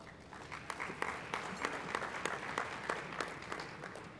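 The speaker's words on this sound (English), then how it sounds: "Not in attendance, but he gets a round of applause" Applause at a mayors' climate protection awards luncheon for an absent honoree: a modest round of scattered clapping from a seated audience, faint and somewhat distant, steady for a few seconds without speech.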